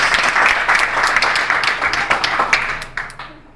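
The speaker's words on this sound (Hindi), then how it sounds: "अरे यहाँ बैठे बैठे यूं तालियां बजाने से कुछ नहीं होगा" A crowd applauds in sustained, dense clapping that stays steady, then thins and tapers off toward the end.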